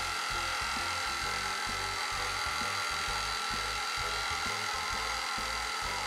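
An electric mixer runs steadily at low speed beating powdered sweetener for a diet panettone, with a continuous loud whirring motor and a rough, rhythmic scraping churn underneath and no talking.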